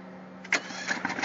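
A modified one-valve engine running on LP gas chugs and putters near idle, with a sharp bark at the start followed by an uneven, fairly quiet beat.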